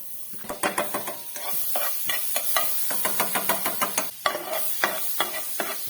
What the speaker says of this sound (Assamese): কেৰাহীখন গৰম হৈছে। এতিয়া মই ইয়াত বাটাৰ দিছোঁ।